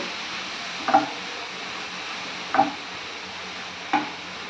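Vegetable curry filling stirred in a pan over a low flame: three distinct scraping strokes spaced about 1.5 seconds apart over a soft, continuous sizzle, with no talking.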